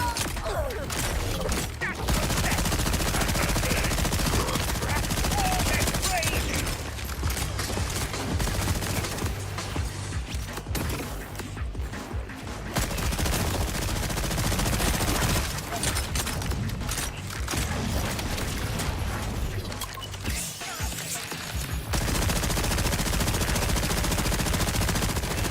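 SMG gunfire in Borderlands, long rapid automatic bursts rattling loud and steady, broken by short pauses, with impacts and clanking game effects underneath.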